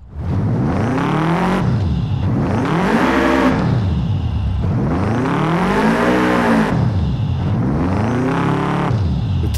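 Boxer-engined car in the racing game Forza Horizon 5, revving hard and loud in repeated rising-and-falling sweeps, about four surging cycles, with no talk over it.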